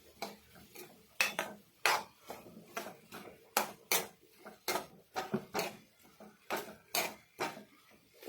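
A spoon scraping and clinking against a pan while stirring prawn roast (chemeen), in a steady series of sharp, close metallic knocks with no talking.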